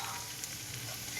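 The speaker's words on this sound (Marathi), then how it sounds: "मी आता गाजराचा किस टाकलेला आहे. आता छानसा भाजून घेणार आहे तुपात." Grated carrot roasts in ghee for gajar halwa, giving a close, steady, dense sizzle with a bright frying hiss and no pauses.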